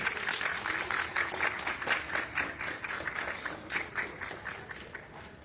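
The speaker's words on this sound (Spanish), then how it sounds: "para quien pido también un fuerte aplauso" A crowd applauds at a live event in Spanish, with a steady patter of many hands clapping, fading slightly toward the end.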